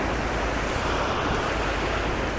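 High river running fast with spring snowmelt runoff, a dense, steady rushing wash of water filling the scene at close range with no breaks.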